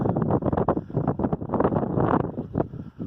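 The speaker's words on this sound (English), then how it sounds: "And there's a lot of wind up here." Strong wind buffeting the microphone high up on an exposed spot, a loud, continuous roaring rush with gusty swells and no pauses.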